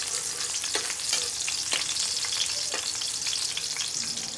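Garlic and onion sauté in a hot pan for a bottle gourd and sardine dish, giving a steady loud sizzle and crackle throughout, with a few soft scrapes of stirring and no talking.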